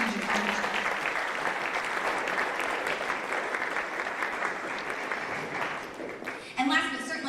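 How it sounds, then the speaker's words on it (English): A crowd at a high school sports banquet claps steadily for several seconds, and the applause tapers off as a voice begins speaking near the end. "give her a round of applause for that"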